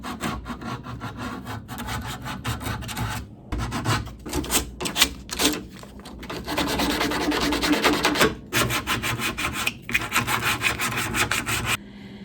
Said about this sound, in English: I can use them for hand sanding, which is what I'm going to do on these legs